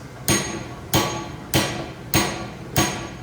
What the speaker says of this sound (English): is start hammering on the very outside of the arm